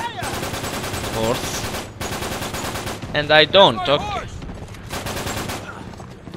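Gunfire in the video game Uncharted 3 during a convoy fight, bursts of shots in separate clusters mixed with game noise, with someone talking briefly over it.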